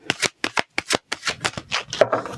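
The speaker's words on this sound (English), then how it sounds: "I'm going to shuffle." Tarot cards are shuffled by hand in a quick run of about ten crisp riffling bursts, close and loud, with no talking.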